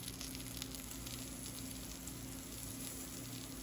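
Birch Benders pancake batter sizzling and frying in a pan, a steady, even hiss that holds constant throughout with no talking.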